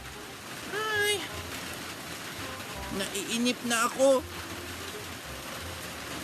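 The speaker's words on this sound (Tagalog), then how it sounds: "Baka hindi na tumigil yung ulan." Rain falls steadily throughout as a broad hiss, with a person talking and briefly singing over it in the foreground.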